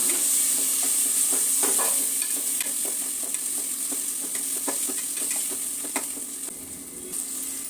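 Tomato frying and softening in a pan for biryani, a steady sizzle with occasional stirring scrapes and clicks throughout, close and continuous with no talk.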